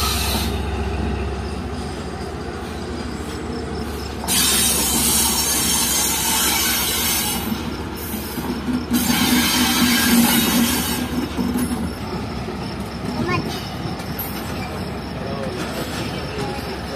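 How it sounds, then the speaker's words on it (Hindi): Allama Iqbal Express, a Pakistan Railways passenger train bound for Sialkot, pulling into a station behind its locomotive, with a steady rumble of rolling wagons and surges of rail noise over background chatter. "तो ये ZCU 36307 के साथ आ रही है 9 अल्लामा इकबाल एक्सप्रेस सियालकोट जाने के लिए"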